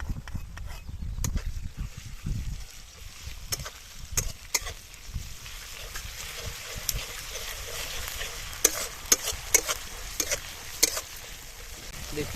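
Onion frying in a pan with ginger-garlic paste just added, village-style cooking: a steady low sizzle with scraping stir strokes and sharp clicks of a utensil against the pan, mostly alone with little talk.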